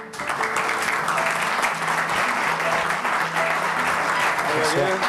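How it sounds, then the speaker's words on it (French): A studio audience applauds a guest, Elie Chouraqui, at a French television debate on religion in the workplace; steady sustained clapping fills the room while a host's voice talks over it. "Je vous demande, mesdames et messieurs, d'applaudir Elie Chouraqui"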